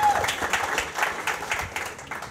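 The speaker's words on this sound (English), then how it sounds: "Everybody give him a round of applause." Audience applause for an investor welcomed on stage at a real estate investing event, a steady wash of many hands clapping in dense bursts at moderate loudness, with faint voices mixed in.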